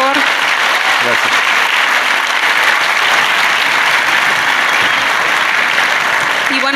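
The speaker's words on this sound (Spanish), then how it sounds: "Un aplauso, por favor." A large audience at a business talk claps steadily and loudly throughout, a thick, continuous wash of applause with a few voices faintly mixed in.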